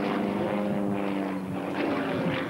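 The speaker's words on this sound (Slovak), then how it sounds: "jediné lietadlo tohoto typu, ktoré máme na Slovensku" A Sukhoi Su-31M aerobatic propeller aircraft drones steadily and loudly, its engine and propeller giving a sustained harmonic hum with no break or other sounds.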